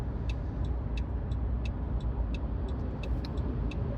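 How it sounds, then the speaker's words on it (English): Car driving along a road, heard from inside as a steady low rumble of engine and tyre noise with faint rhythmic ticking, moderately loud and continuous, with no talk. "One second. I'm driving."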